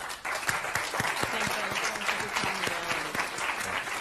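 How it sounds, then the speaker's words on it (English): Audience applause at an event, heard as part of a played recording: dense, continuous clapping from a large crowd, steady and loud throughout, with faint voices mixed in. "And the applause."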